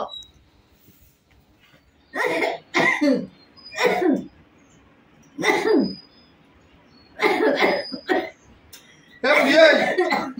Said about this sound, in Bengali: তোর এত কাশি আমার সারা রাত ঘুমাতে পারছি না